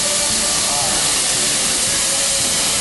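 Authentic steam railroad locomotive at a Disney theme park releasing a steady, loud hiss of steam that fills the whole moment without break.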